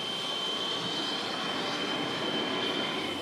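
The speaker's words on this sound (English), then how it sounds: "It's a steam locomotive," A steam locomotive train running near Tokyo, heard as a continuous, fairly loud rumbling roar with a faint steady whine and no voices.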